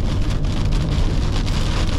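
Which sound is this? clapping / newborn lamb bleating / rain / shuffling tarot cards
rain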